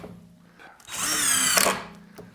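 A Bauer power drill drives a 1 5/8 inch drywall screw in a single loud, high whirring burst of about a second. The motor rises sharply, holds, then cuts off, with quiet handling noise before and after.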